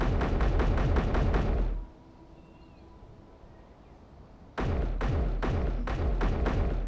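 MA20 rifle in Space Engineers firing rapid automatic bursts, loud and close, with a quiet pause of nearly three seconds between the two volleys.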